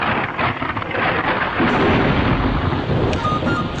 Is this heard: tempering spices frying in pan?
no